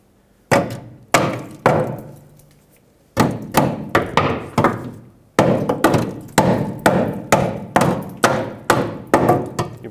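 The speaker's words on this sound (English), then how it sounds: "Take a hammer, tap this side that way and this side that way." Hammer tapping against the spare tire carrier assembly of a 2008-2010 Ford F-250, a series of sharp metallic knocks, first spaced apart, then coming in quick irregular bursts, close and loud with no talking.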